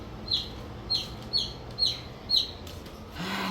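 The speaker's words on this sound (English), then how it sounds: "you might hear some chirping." Five short, high peeping chirps from a baby chick at a fairly even pace, close by, over a quiet background hiss with no talking.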